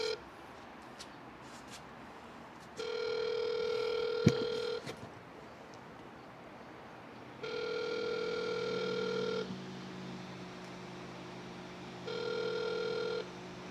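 Phone ringback tone in Saudi Arabia repeats in steady long beeps separated by pauses, with a sharp click and faint background noise before the first ring.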